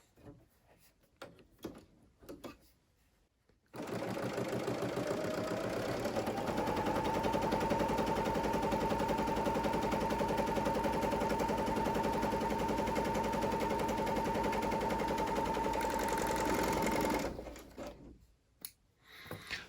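A Bernina L850 serger stitches through a scrap of fabric with a loud, steady, rapid mechanical whir that runs unbroken for about thirteen seconds. Faint clicks and handling noises come before and after.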